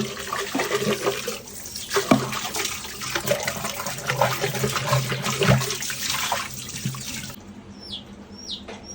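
Tap water runs steadily into a sink while a water purifier part is rinsed under it, with splashing and uneven bursts as the part is moved, stopping near the end.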